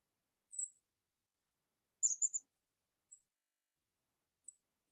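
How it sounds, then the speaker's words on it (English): Faint, high-pitched chirps from small birds in a backyard, a few short calls spaced apart with silence between them, somewhat distant. "I can hear the sound of little birds chirping in my backyard."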